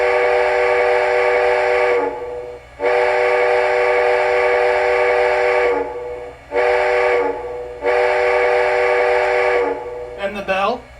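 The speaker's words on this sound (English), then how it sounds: "Here's the whistle." An MTH O gauge model steam locomotive sounds its whistle in four loud, close blasts, two long and two shorter, each a bright chord-like tone, with a brief voice at the end.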